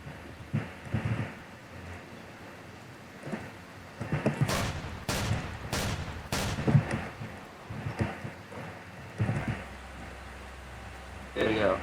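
Gunfire in a video game rings out as a cluster of sharp, loud bursts in quick succession near the middle, with scattered softer rumbles and noises before and after.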